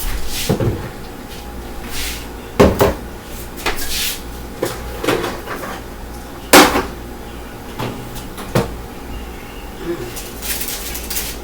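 An oven door opens so homemade crackers can go in, making several close clunks and rattles of the door and racks, scattered irregularly over a quiet kitchen background.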